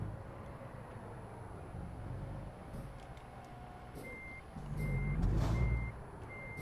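A truck reverses while turning around at a locked site in a trucking game, its engine rumbling low as a steady reversing beeper repeats, the engine swelling louder near the end.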